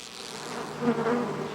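Bees buzzing in a steady, close hum that swells slightly partway through, with no voices.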